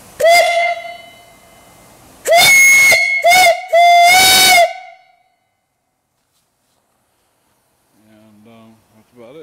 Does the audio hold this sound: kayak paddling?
no